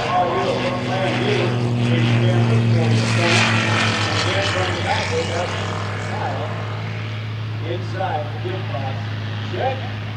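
A new 2017 Kitfox S7 Speedster light airplane makes a low flying pass at an airshow in Oshkosh, its propeller engine droning loudly and steadily throughout while an announcer talks over it.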